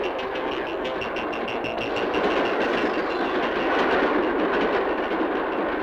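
A 1987 ER2R electric multiple-unit train accelerating, a loud, continuous rushing rumble of wheels on rail with a rising hum and faint rhythmic clatter, heard alone without talking.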